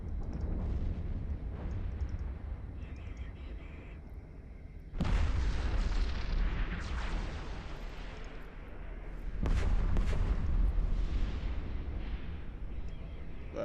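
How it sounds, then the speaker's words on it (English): A spaceship explosion in EVE Online sounds as a deep, sustained rumbling boom that surges sharply midway and again later, with dense low roaring and no talk. "That is a lovely explosion."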